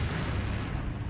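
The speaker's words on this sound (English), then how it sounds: "the tremendous impact and detonation of this explosive really just shook the area" A MOAB, the largest guided bomb ever built, detonates in a massive explosion, heard as a sustained, loud, dense rumble of blast noise with heavy low-end roar filling the whole moment.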